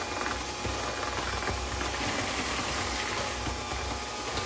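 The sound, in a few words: electric mixer starting slow, mixing sugar for lemon chess bars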